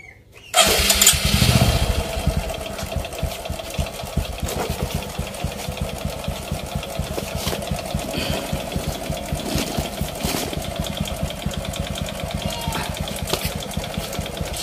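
A Suprex 125 motorcycle engine starts with a loud burst, then settles into a steady, close idle that chugs evenly and continuously with no talk.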